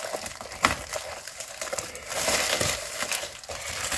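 Paper packaging and a paper towel wrapped around items from a second-hand parcel of books and toys are crinkled and crushed by hand, giving a steady, close rustle with several sharper crackles and no talk.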